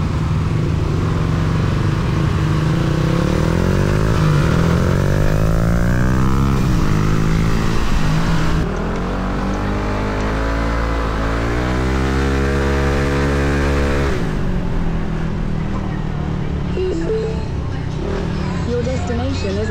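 A Kymco scooter on a test ride, its engine droning and sweeping up and down in pitch as it accelerates and eases off. The sound is loud and steady throughout, and a voice talks over it.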